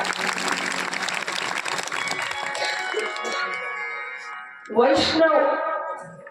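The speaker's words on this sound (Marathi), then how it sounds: "एकदा जोरदार टाळ्या वाजवा." Applause from the audience at a Bhagwat Katha religious gathering, a busy patter of clapping that thins out over several seconds before a voice rises loudly near the end.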